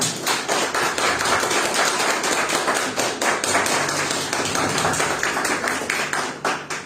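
A congregation at a Pentecostal church service claps together in a dense, steady roar of overlapping hand claps that stays loud and unbroken throughout.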